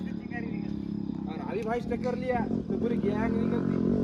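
A Splendor motorcycle engine hums nearby and grows louder as it approaches, with voices talking over the running engine, during Shiv Jayanti in Parbhani.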